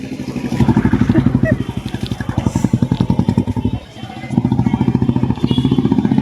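A Hero Splendor motorcycle engine starts and runs with a loud, close, rapid pulsing beat that briefly drops out midway before picking up again, with no speech over it.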